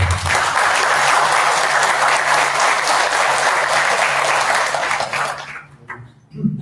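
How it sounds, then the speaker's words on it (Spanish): A university audience at an academic semester-opening lecture gives the rector strong, sustained applause, loud and dense, which fades out abruptly near the end. "Un fuerte aplauso."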